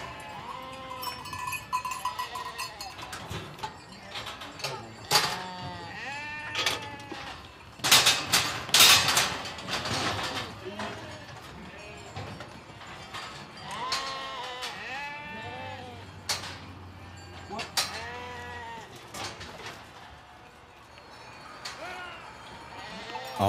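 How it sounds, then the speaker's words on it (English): A large flock of sheep bleats continuously, many overlapping calls near and far, with cowbell-like clinks and hoof clatter as farmers sort and take home their animals through a sluice system. "farmer can take his sheep home."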